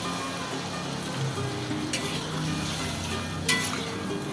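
Water is poured into potato curry frying in a pan, giving a steady, close hiss of sizzling with two brief metallic clinks of a utensil against the cookware.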